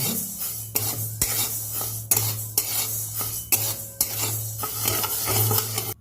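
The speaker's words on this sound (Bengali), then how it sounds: "এবার আমি মুগের ডালটা নেড়ে নেবো। মুগের ডালটাকে নেড়ে চেড়ে একটু ভেজে নেবো।" A spoon stirs moong dal dry-roasting in a wok, with repeated sharp metallic scrapes and clinks in an uneven rhythm over a low steady burner hum, close and clear with no talking.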